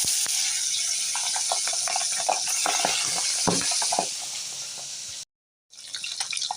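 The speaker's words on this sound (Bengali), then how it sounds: "একটু হালকা হালকা ভেজে নিয়েছি সাতটা ভেজে নিই" Pomfret fish seasoned with salt and dried red chili fry lightly in a pan, giving a steady, close hiss dotted with small crackles before the sound cuts out briefly near the end.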